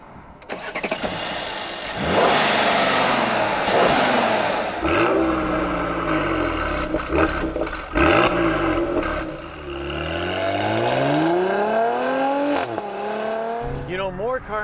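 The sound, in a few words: twin turbo V6 SUV engine accelerating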